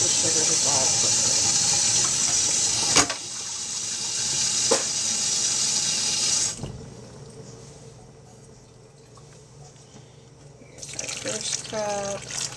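Warm water runs steadily from a kitchen tap for several seconds during apple scrap vinegar preparation, broken by a couple of sharp knocks, then quiets before a short splashing burst near the end.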